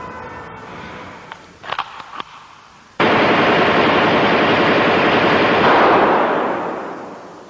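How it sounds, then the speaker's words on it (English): Automatic gunfire from a Tokarev pistol and an Uzi in a Liverpool street shooting: a few sharp isolated cracks, then a sudden, loud, sustained burst of rapid fire that rolls on for several seconds before fading slightly. "the crack of the Tokarev and the Uzi"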